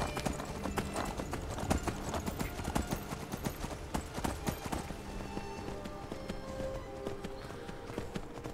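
In the video game Skyrim, a ridden horse moves at pace, its hoofbeats forming a steady, rapid clip-clop that runs unbroken over quiet in-game ambience.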